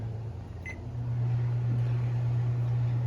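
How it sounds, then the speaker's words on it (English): Older microwave oven running while heating plastisol for fishing lures, giving a steady close hum with a brief faint electronic tone near the start, no voices. "next we're going to put the plastisol into the microwave."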